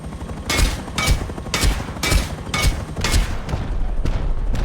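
An attack helicopter in the Rust video game fires HV rockets in quick succession, with about six heavy booming launches at a steady rhythm over a constant rotor roar, loud and close.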